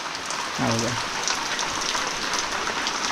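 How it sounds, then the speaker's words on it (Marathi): Heavy rain pours steadily in a dense, constant hiss, with a brief voice heard early on. "आता जो संध्याकाळी पडतो आहे तो म्हणजे मोठा पाऊस आहे"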